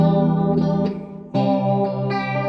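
Electric guitar played through an analog chorus pedal, sustained chords shimmering and wavering with a lush doubled tone, one re-strummed chord midway, loud and close.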